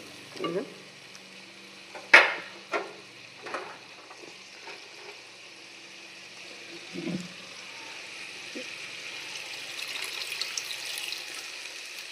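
Water is poured into a pan of sautéed potato and pointed gourd curry, bringing a loud splash and hiss followed by a few stirring clinks and a steady sizzle that swells toward the end.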